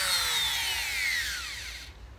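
A Shinko Japanese 100V electric drill fitted with a 6 mm bit whines steadily at close range, its pitch sliding downward as it spins down and cuts off near the end.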